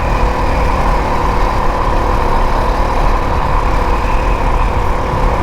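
Honda CRF450RL dual sport motorcycle from 2022 ridden standing up through town and a neighborhood, its engine a loud, steady drone with rushing wind and no voices.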